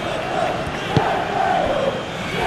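Football stadium crowd at a Blades match, a broad steady roar of cheering and applause rising slightly with a brief sharp shout near the middle.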